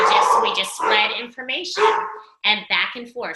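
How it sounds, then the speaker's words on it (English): A dog barking and yipping in a home, short sharp barks under and between a person's speech on a video call. "Sorry about the dog, guys."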